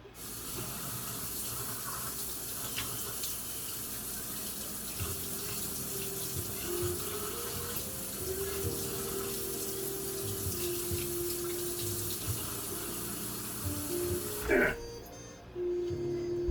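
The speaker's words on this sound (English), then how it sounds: "I gotta rinse it." A kitchen tap runs in a continuous, even stream for rinsing while preparing instant soba. The water stops with a brief clatter near the end.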